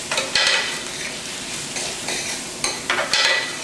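Finely chopped green onion sizzles in a hot pan with shrimp for shrimp and grits, a steady fry crackle broken by a few louder bursts of stirring and spoon scrapes.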